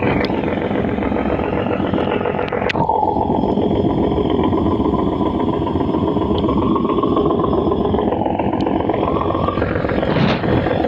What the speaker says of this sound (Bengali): রাতে লঞ্চের রেস দেখতে খুব ভালোই লাগে